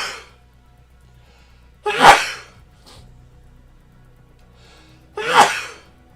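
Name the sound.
sneeze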